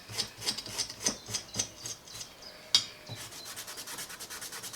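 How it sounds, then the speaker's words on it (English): Rust being scrubbed off a steel knife blade with a Scotch-Brite abrasive pad, close and clear. Steady rhythmic rasping strokes repeat, with a single sharper scrape partway through. "I'll clean the rust off, that'll be a good start. So just a bit of Scotch Brite."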